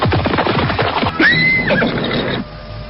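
A horse whinnies loudly as a rider approaches, the neigh rising and then falling for about half a second over a busy rush of hoofbeats and movement.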